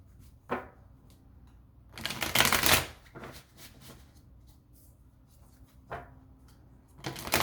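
Tarot cards are shuffled by hand close up in quiet bursts: a short riffle, then a longer burst of flicking cards, several lighter taps, and a final pair of riffles.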